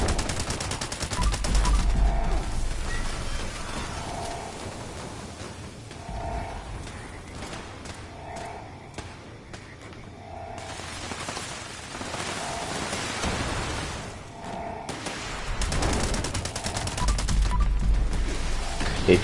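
In Fallout 76, gunfire is aimed at the Mothman during the Mothman Equinox event. Several bursts of rapid automatic shots come in separate waves, moderately distant, over a steady hiss like rain.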